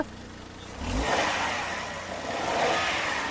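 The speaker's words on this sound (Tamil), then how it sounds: "ரேஸ் பண்ணுப்பா" A Maruti Alto K10 engine revs up sharply, its roar swelling and holding with a second surge toward the end, close and fairly loud with no voices.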